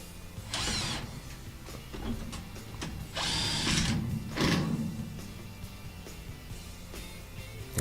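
A power tool drives screws back into the top panel of a Whirlpool WTW430XW3 top-load washer, giving several short whirring and ratcheting bursts separated by pauses amid faint handling noise.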